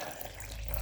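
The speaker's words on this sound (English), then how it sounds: "now we're going to add some hot water." Warm water runs from a tap into a bowl while making cinnamon roll dough, a short steady splashing pour at moderate loudness with no talking.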